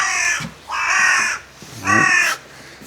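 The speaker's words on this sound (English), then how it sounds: "Some noisy birds up there." Harsh crow caws in three drawn-out bursts with short pauses between, loud and fairly close outdoors near a castle above Kelburn Glen, Scotland.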